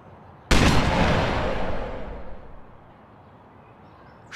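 A single loud gunshot cracks out in the Open Season video game, a sudden sharp blast whose rumbling echo decays over about two seconds before quiet returns.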